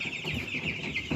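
Young Cobb 500 broiler chickens calling in a poultry pen, a rapid run of high, repeated chirping clucks close by, with no talking.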